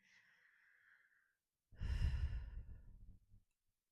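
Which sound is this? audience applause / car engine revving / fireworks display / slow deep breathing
slow deep breathing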